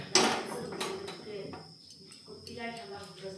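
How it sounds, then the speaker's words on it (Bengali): A metal wok is set onto a kitchen stove with one sharp clank right at the start, followed by lighter metallic clatter and handling noise at moderate level. "এখন আমি কড়াই বসিয়ে দিলাম।"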